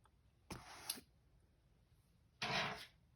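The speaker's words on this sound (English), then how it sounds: "You get your scissors and you cut the yarn." Yarn being snipped with scissors: two short, quiet, separate cuts about two seconds apart, each a soft crisp swish with a small click, in a very quiet room.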